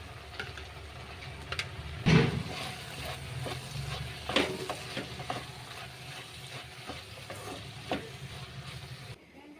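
Coriander powder and spices frying in hot oil in a pan, a soft continuous sizzle with scattered stirring clatters and scrapes, fairly quiet and with no voices.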